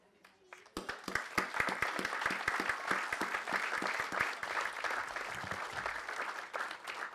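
Applause from an audience at an honoring and remembrance event breaks out after a brief pause and continues as steady, dense clapping for several seconds, moderately distant, fading slightly toward the end.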